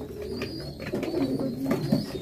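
Pigeons coo close by in soft, throaty, repeated rolling calls, several overlapping phrases over a couple of seconds with no talk.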